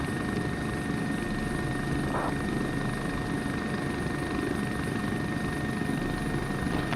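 A helicopter on an Austrian tour flight holds a steady, loud rotor and engine drone throughout as it nears a helipad, heard continuously from inside the aircraft with no talk.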